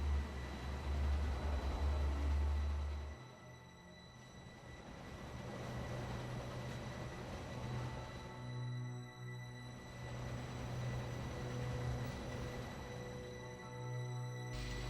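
A train in the video game Final Fantasy XIII rumbles steadily through a tunnel, a continuous low roar with a faint tonal hum, moderately loud and unbroken.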